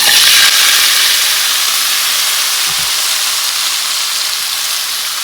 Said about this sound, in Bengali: এখানে আমি সর্ষে আর কারি পাতা ফোড়ন দিয়েছি